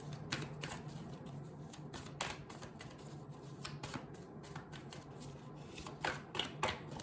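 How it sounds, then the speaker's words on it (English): A deck of tarot cards is shuffled by hand, giving a run of quick riffling snaps and soft flutters close to the listener with short pauses between bursts, with no talking during the shuffling. "I'm just shuffling, so you decide what card comes out"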